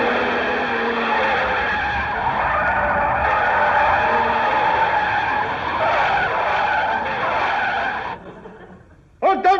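Several cars skid and screech to a stop in a radio comedy effect, a loud sustained tire squeal that fills most of the stretch and then breaks off, followed by a brief sharp final screech.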